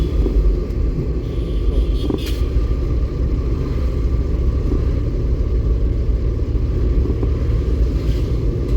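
Steady rumbling car engine during a driving lesson, a constant loud low drone of the vehicle moving along with faint road noise, no talk.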